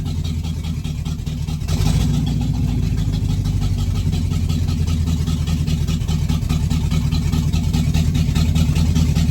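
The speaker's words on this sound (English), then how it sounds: "She idles great once she warms up a little bit" A C3 Corvette V8 idles steadily on its own after warming up, its choke not working, with a constant low rumble that stays even and loud throughout and no talking.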